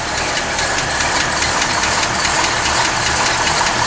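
A 1939 Cadillac Series 90 V16 formal sedan engine idles smoothly and steadily in a garage during a New England winter, a continuous close, loud rumble with no talking over it.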